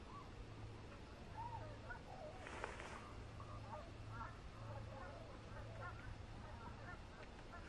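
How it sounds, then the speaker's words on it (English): Geese honk repeatedly in the distance, faint calls scattered across a steady outdoor background hiss, with a brief louder rustle partway through. "Here's those geese."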